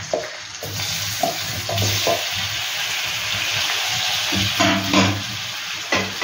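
Parboiled potatoes tipped into a hot pan on lowered gas, giving a steady close sizzle with bursts of stirring and scraping and a few low knocks throughout.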